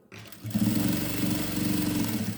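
Sewing machine stitching a lining skirt waistband through bulky layers of cloth, a steady close motor hum with rhythmic needle chatter after a brief start.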